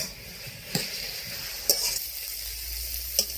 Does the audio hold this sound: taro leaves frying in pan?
yes